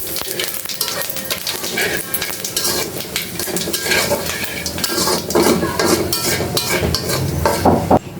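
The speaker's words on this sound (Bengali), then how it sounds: "ভাজা যে তেলটা আছে দিয়ে দিলাম শুকনো মরিচ তেজপাতা জিরা ফোড়ন" A tempering of dried chilli, bay leaf and cumin sizzles in oil left over from frying fish heads, a continuous close crackle with occasional utensil scrapes and clinks against the pan.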